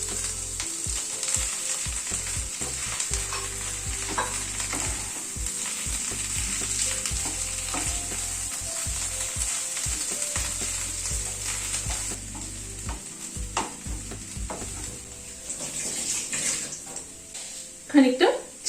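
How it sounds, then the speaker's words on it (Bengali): Mashed potato stirred together with prawns in a frying pan for beetroot prawn chops, with a steady sizzle and repeated scraping of the spatula against the pan, plus a few clinks toward the end. "এবার স্ম্যাশ করা আলুটা মিশিয়ে দিচ্ছি।"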